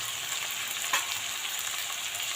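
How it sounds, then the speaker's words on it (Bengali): Onion, green chili and potato frying together in a pan, a steady soft sizzle with one brief louder crackle partway through, no voices. "একসঙ্গে পেঁয়াজ কাঁচা লঙ্কা আলু ভেজে নেব"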